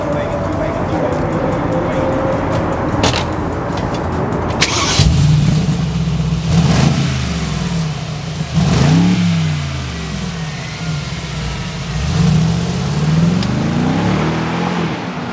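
A Mercedes-Benz AMG G63 SUV engine fires up with a sharp burst, then revs repeatedly in rising and falling sweeps, loud and close, with a voice talking over the opening seconds.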